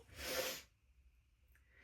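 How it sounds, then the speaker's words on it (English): A single loud sneeze bursts out close by, a sharp breathy blast followed by quiet room noise with a faint hiss. "I think I'm going to sneeze."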